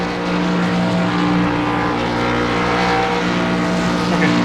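A race car engine in a sim racing video game, the 13 car at New Hampshire, roars continuously at steady high revs, loud and close with a constant droning tone and no talk.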